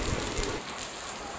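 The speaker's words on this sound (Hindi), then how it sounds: "बारिश बहुत जोर से आ रही है" Steady broadband hiss of heavy rain pouring down outdoors, close and continuous, with a slightly louder, rumbling patch at the start before it settles into an even wash.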